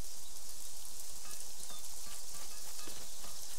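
Steady rain falls in the video game Craft The World, a constant even hiss of drops with no pauses, fairly soft throughout.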